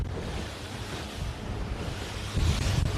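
Wind buffets the microphone over rushing ocean waves during a B Class sailing boat race, a continuous loud roar that swells briefly toward the end, with no voices.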